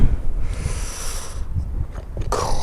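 Strong wind buffets the microphone on a UK beach, a continuous low rumbling roar with gusty surges and broadband hiss throughout, no voices present.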